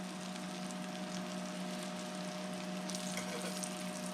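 Flour-dredged morel mushrooms sizzle gently in a pan as they partly fry, a faint, steady crackle over a low hum with no talking.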